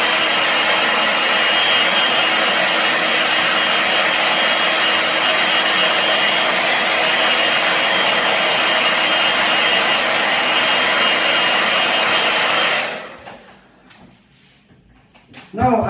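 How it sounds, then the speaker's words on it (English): A hair dryer blow-drying a male customer's hair in a barbershop, a loud, steady close whoosh running for about thirteen seconds before cutting off into near quiet. "I'm just going to blow dry this hair up."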